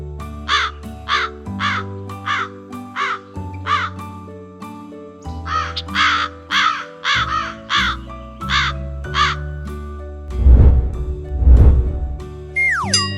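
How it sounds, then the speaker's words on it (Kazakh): A crow caws repeatedly in short harsh bursts, loud and close, with ringing chime-like tones underneath and a louder rough stretch near the end. "Я, таптым, бұл қарға болу керек."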